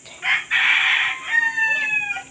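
A rooster crows loudly nearby, a drawn-out call with a falling tail, over a steady background hum.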